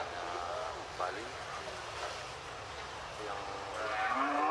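Cattle moo at a livestock market selling local, Brahman and Bali breeds, several low drawn-out calls heard at a distance beneath a man's speech and steady background noise.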